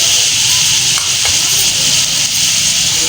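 Spices being stirred into sizzling chicken karahi with crushed coriander, red chilli, salt and garam masala, a loud steady frying hiss close up, with no talking.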